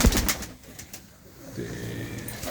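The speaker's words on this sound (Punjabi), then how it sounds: "ਇਹ ਆ ਕਬੂਤਰ ਭਾਈ ਇੱਧਰ ਸਾਰੇ ਆ ਕਬੂਤਰ ਆ" Pigeons in a loft give low cooing calls close by, with a few sharp knocks and rustles early on and a steady murmur of cooing later.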